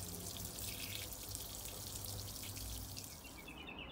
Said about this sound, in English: then we just let the clean water run through it.